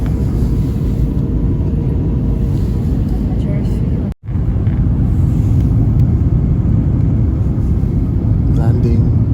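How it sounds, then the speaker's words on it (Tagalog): A passenger airplane landing at JFK, heard from inside the cabin as a loud, steady low roar and rumble that drops out for a split second before resuming. "Landing."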